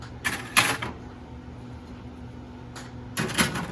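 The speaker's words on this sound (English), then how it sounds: "Okay, so now they go in the oven." Pan of brownies going into a home kitchen oven: a couple of short clatters and thumps near the start, a quiet pause with steady low hum, then another clunk and rattle as the oven door closes.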